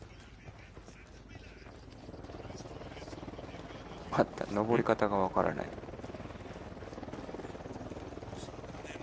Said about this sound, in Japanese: あのヘリどこのヘリ。